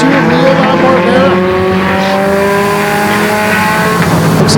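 Pure Stock race cars, including the 16 car, roar past on Flamboro Speedway, loud engine notes rising and falling with tire squeal as the pack runs close, a commentator talking over the racing.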